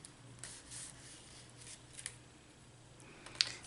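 Scissors cut through Temu packaging paper for a steampunk journal pocket, quiet rustling snips and rubbing paper sounds, close but faint, ending in one sharper click, with no talking.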